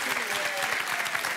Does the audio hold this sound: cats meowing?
no